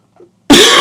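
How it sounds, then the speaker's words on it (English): A sudden loud, harsh cough bursts out close to the mic after a faint murmur, sustained and raspy from a sore throat. "sorry about my coughing in my throat"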